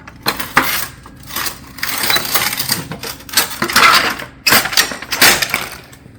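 Metal valley panel being cut with a cutter, a run of sharp metallic clanks, snips and rattling bursts with brief pauses between.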